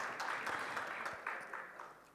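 Audience at a security summit applauding as a municipal mayor is welcomed on stage, a faint, brief burst of scattered clapping that tapers off quickly.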